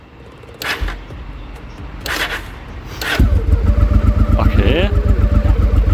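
Motorcycle engine being test-started after a valve adjustment: a few cranking bursts catch into a loud, close, steady idle with a pulsing beat, and a brief spoken word partway through.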